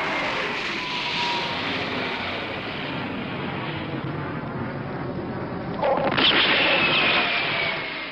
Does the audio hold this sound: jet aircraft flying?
yes